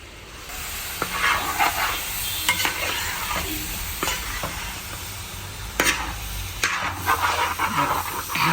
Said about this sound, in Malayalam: നന്നായിട്ടൊന്ന് മിക്സ് ചെയ്ത് കൊടുക്കാം